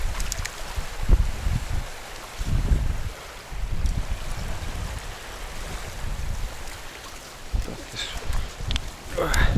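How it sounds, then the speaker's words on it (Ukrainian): Gusty wind buffets the microphone in low rumbling bursts while fishing on the Dnieper River in bad weather, with water splashing and a faint voice now and then in the background. "Вітер змінився, тепер нам в обличчя"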